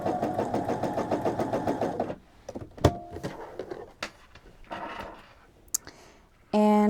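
A sewing machine stitches a button onto a headband in a fast rhythmic burst for about two seconds, followed by scattered clicks, taps and handling noises and a brief electronic tone at the end.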